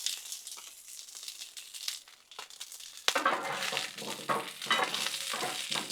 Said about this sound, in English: we're just gonna mix these around, kind of get that oil on all of them